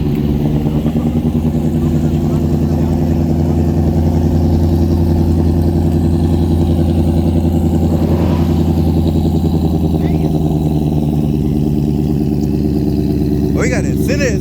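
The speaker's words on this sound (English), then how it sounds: "That's what Mustangs be sounding like." A Ford Mustang engine and exhaust idle at a car meet, a steady, deep, close rumble that runs throughout with voices nearby.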